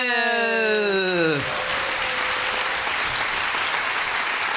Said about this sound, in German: klatschen ganz euphorisch für Ansgar Hufnagel